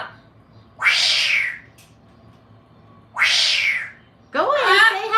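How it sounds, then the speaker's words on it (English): A cat screeching in three loud, drawn-out bursts separated by short quiet gaps, close to the microphone, the last cry wavering in pitch. "Just making the cat like screech."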